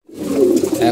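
A pigeon gives a short, close, low rolling coo while the birds are being fed.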